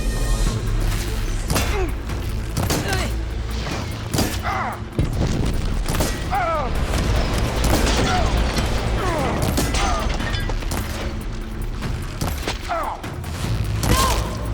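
Gunfire and impacts in the video game Horizon Burning Shores ring out in bursts and crashes over dense game noise, with characters' voices speaking throughout.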